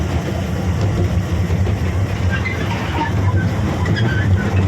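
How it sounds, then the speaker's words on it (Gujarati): A slow-moving toy bullet train carrying riders at a holiday spot in Daman rumbles with a steady low drone and light clatter, close and continuous, with faint children's voices in the background. "અમારી બુલેટ ટ્રેન તો છે પણ બુલેટ ટ્રેન બહુ ધીરી ચાલે છે"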